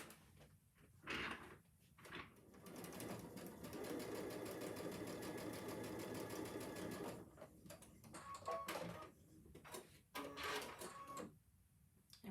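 A sewing machine runs in a steady close whir for several seconds while quilt template pieces are joined, framed by clicks, fabric handling and short bursts of stitching before and after.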